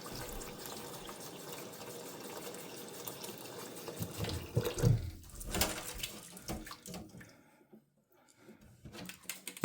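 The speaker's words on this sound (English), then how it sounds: "we're going to pour them in there again, give them another rinse" Running water splashes steadily into a sink as beans are rinsed for several seconds, then fades to quiet with a few faint clinks.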